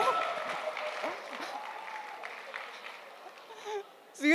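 An indoor audience at a talk applauds and cheers for a man on stage, a steady wash of clapping that fades then swells again at the end.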